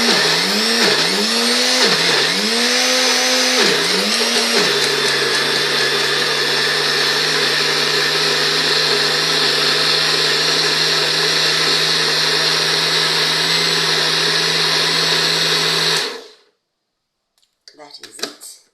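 A blender whirs loudly as it blends fresh cassava with water, surging a few times as it starts, then settling into a steady high whine for about fifteen seconds before stopping abruptly, followed by a faint clatter.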